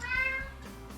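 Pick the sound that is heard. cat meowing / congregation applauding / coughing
cat meowing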